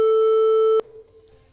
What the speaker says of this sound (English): Let's once again hear the buzzer for AHMADIYYA.